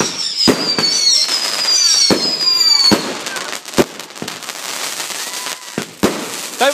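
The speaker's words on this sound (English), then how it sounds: "This is still a medium-sized firework." Fireworks, including King Cobra, bang repeatedly, sharp explosive cracks every second or so with crackling and whistling trails between them, loud and fairly close, with faint voices underneath.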